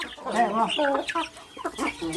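Chickens cluck close by in a quick run of short, throaty calls, loud and busy over roughly two seconds.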